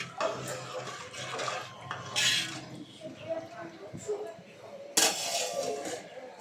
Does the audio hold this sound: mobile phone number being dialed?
no